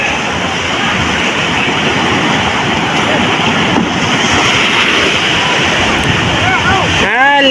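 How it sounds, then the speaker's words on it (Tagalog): Big sea waves churning around a small outrigger boat offshore, a loud continuous wash and splash of water close to the hull, with wind buffeting and a voice talking over it. "Laki po ng alon mga kasimang."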